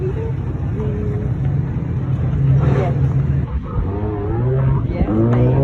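Car being driven smoothly by a young driver, a steady low engine and road rumble heard from inside the cabin throughout, with occasional faint shifts in tone.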